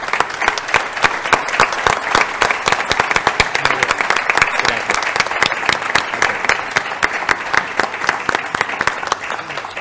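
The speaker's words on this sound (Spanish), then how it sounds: "le agradecemos todos con un aplauso que es hacia Mario" Sustained, loud applause from a conference audience at a labour law symposium tribute, with many sharp hand claps forming a steady, continuous clatter with no talk over it.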